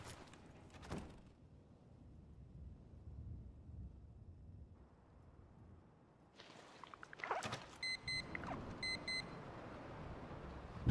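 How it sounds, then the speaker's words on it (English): Several short electronic beeps sound in quick groups near the end, inside the Fallout 4 game at night during a storm, after quiet low rumbles and a couple of muffled thuds. "You hear that beep?"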